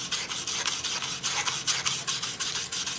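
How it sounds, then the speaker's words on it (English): A stainless steel wire brush scrubs oxide off the joint of an aluminum plate before TIG welding, a harsh bristly rasp in quick back-and-forth strokes, close and loud, with no voices. "Take the plate, and you're going to brush the joint that you're going to weld."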